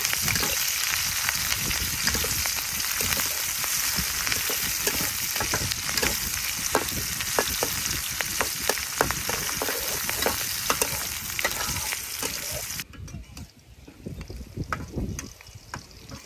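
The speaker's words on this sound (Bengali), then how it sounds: "তেলের উপরে দিয়ে দিলাম আস্ত জিরে, পেঁয়াজ কুচি, কাঁচামরিচ ভালোভাবে ভেজে নিই।" Whole cumin seeds, chopped onion and green chillies frying in oil, a loud continuous sizzle with frequent stirring scrapes and clicks close by, ending with a quieter stretch.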